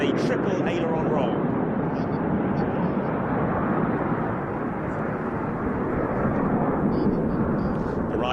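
A solo aerobatic display jet rolling through a triple aileron roll at the Royal International Air Tattoo, a loud, sustained roaring rumble of jet thrust that washes on without break, with faint commentary underneath.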